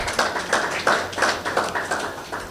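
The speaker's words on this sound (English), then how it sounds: "please clap for yourselves." Graduating students at a graduation ceremony clap for themselves, a rhythmic burst of claps roughly every third of a second in a reverberant hall, moderately loud with no talk over it.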